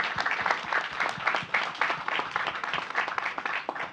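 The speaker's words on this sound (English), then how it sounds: "Give a round of applause." An audience at a panel event gives a sustained round of applause, dense overlapping claps at steady moderate volume from a room full of people.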